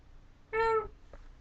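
A single cat meow, clear and fairly close, lasting about a quarter second, followed by a faint trailing sound against a quiet room background.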